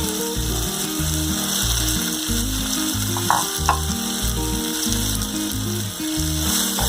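Radish sautéed in a pan for sambar, a steady sizzle under a loud repeating rhythmic mechanical thumping, close and continuous with no speech.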